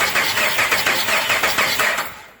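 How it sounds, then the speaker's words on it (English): A Dodge Ram with a 5.7 Hemi V8 and a camshaft failure cranks over loudly and close, the starter pulsing in an even rhythm for about two seconds without firing, then stopping. "I'm going to crank this, and you'll watch this intake valve."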